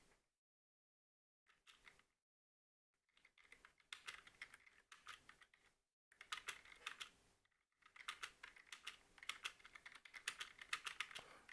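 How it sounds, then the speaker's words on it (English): Typing on a computer keyboard at a desk, with rapid bursts of clacking keystrokes broken by short pauses and rising to steady, close-up runs toward the end. "You can hear me typing on my keyboard."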